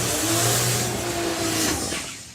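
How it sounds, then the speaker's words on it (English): Two turbocharged Altered drag racing cars rev loudly and close by at a drag strip during a national finals meet, holding a sustained engine drone that tapers off near the end. "We've got 2 turbocharged Altereds here."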